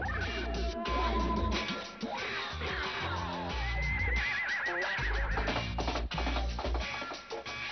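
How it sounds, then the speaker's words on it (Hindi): A cartoon horse in the stone-age series Gon neighs loudly and gallops off, with rising whinnies and hoof clatter over busy background music. "इसका घोड़ा तो भीगी बिल्ली की तरह भाग गया"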